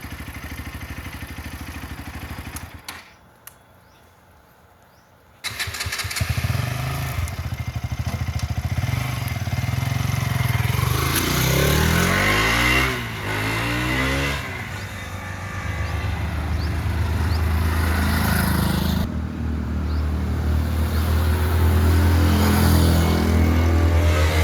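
A KTM Duke 200 motorcycle engine starts after a short silence, then idles and revs up close by, loud and steady, with rising and falling engine pitch as it rides off.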